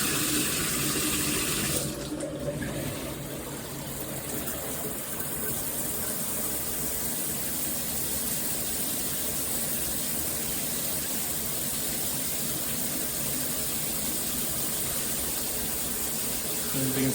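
Water pours steadily from a large all-metal rainfall shower head over a tub, a close, constant hissing spray that runs unbroken throughout.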